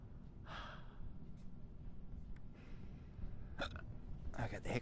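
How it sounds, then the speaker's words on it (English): Hiccups from a man while playing a boxing game, several short sharp gasping hics spaced a second or so apart, close and fairly loud over a low background hum. "I got the hiccups now."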